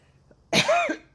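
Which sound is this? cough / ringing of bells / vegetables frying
cough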